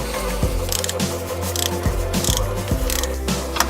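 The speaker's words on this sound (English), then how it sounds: "So there you go, you just use your spark plug tool" A ratchet spark plug tool loosens spark plugs on a Subaru Legacy, giving a series of close, sharp ratcheting clicks in quick repeated bursts over a steady mechanical background.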